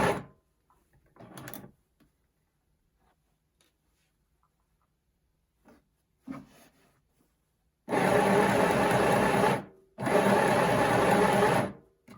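A Midi sewing machine stitching fabric runs in two loud, steady bursts of about two seconds each, separated by a short pause, after quieter clicks and handling sounds.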